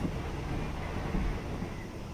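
Steady low rumble and broadband hiss inside a passenger cabin of a train on the southern double-track line near Hua Hin, Thailand, constant and enveloping, with no voices.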